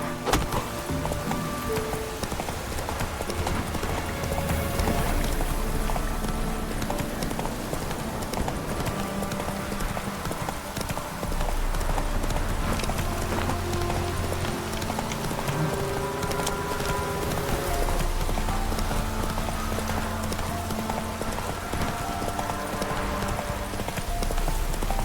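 Geralt's horse Roach in The Witcher 3 game, hooves clip-clopping in a steady galloping rhythm throughout, close and continuous, layered with ambient game sounds and a low music bed.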